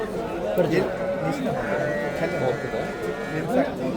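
Isoq choriq sheep bleat at a Sariosiyo Thursday livestock bazaar, short wavering calls rising now and then over a busy murmur of nearby voices and market bustle.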